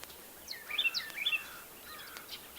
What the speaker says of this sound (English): We've got lots of bird activity this morning. Lots of robins around, and blue jays and bluebirds.